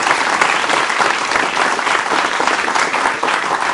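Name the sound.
studio audience applause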